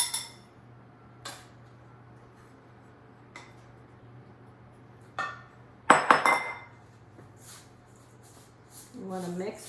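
Berry bar ingredients with an egg are stirred in a bowl, giving sparse clinks and scrapes of a utensil against the dish, with a louder clatter in the middle and quiet stretches between.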